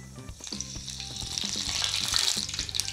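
Cumin and mustard seeds hit hot oil for tempering and crackle into a bright, rising sizzle that stays steady and close for a few seconds, with no voices.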